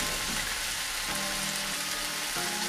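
Corned beef and fish cook in a pot, a steady, close hiss of frying and sizzling throughout, with faint clinks and stirring underneath and no talking.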